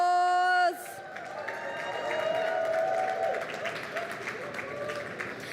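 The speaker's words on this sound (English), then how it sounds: "give our wonderful speakers, sponsors, and panelists a warm round of applause" An audience at a future scientists and healthcare leaders' summit gives a sustained round of applause and cheering. A dense wash of clapping starts abruptly after a sustained tone cuts off and keeps going steadily, with voices mixed into the crowd.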